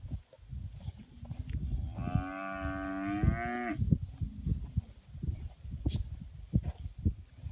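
A Braford heifer in a group of cattle gives one loud, drawn-out moo close by, set against shuffling, hoof steps and low farmyard noise.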